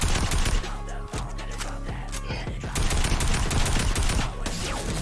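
Video game gunfire in an elimination bounty match: dense, rapid bursts of automatic shots fill the whole stretch, loud and continuous with no break.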